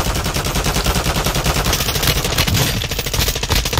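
Rapid bursts of game gunfire crackle almost continuously, dense and loud, with automatic-weapon rattles overlapping throughout.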